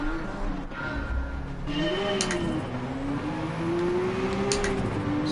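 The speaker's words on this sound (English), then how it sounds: "Listen to that gear change." In Gran Turismo 7, a race car engine drones and revs with a wavering tone that climbs, dips at a gear change, and climbs again, playing loud and steady against game background sounds.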